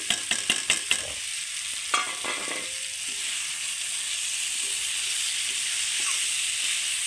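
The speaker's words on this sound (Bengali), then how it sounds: "ভালো করে মিলিয়ে নিয়ে একটু চাউলের সঙ্গে সমস্ত কিছু, সব কিছু মিলিয়ে নিয়ে" Fried rice stirred into a fish head mixture in a pan: a quick run of about six sharp spatula taps opens, then a steady, moderately loud sizzle with occasional scrapes continues.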